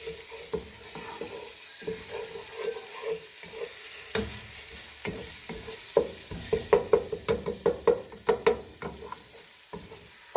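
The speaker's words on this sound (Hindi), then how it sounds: "डाल दिया है इसमें लहसुन पिसा हुआ और इसके साथ ही इसको आप सुरख कर लें।" Ground garlic for desi saag frying in a pan, with a soft continuous sizzle under a run of rhythmic spoon taps and scrapes that grow quicker and sharper in the second half.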